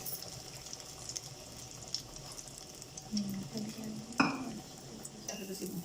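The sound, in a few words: chicken potato nuggets frying in a kadai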